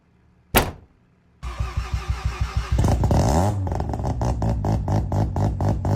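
In a car parking video game, after a brief sharp sound, a car engine cranks with rapid rhythmic chugging, then catches and settles into a steady idle, loud and close.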